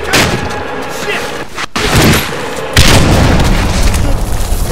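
A grenade blast in the Medal of Honor Warfighter military shooter, heard as a loud, heavy boom that lands suddenly and rolls out over dense rumbling combat noise, with low-level gunfire before it.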